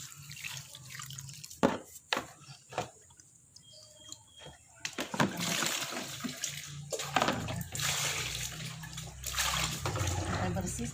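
Water poured off while aloe vera is washed in a kitchen, a faint trickle and splashing in the first half giving way to louder running water and sloshing, with no one speaking.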